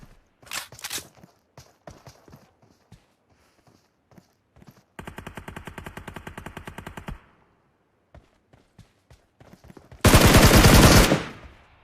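Gunfire in PUBG on the Georgopol map: scattered single shots and short bursts, a sustained rapid automatic volley in the middle and a loud dense burst near the end, with footstep-like taps between.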